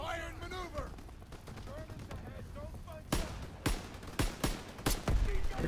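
Carbine gunfire in the Call of Duty: WWII game cracks out as a run of sharp, loud shots in the second half, spaced irregularly roughly half a second apart, following quieter game ambience with faint voices and tonal effects.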